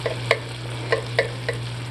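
Garlic sizzling in a pan with ground turkey, giving a steady low frying hiss with a few sharp pops and crackles at irregular intervals, close and moderate in level, without speech.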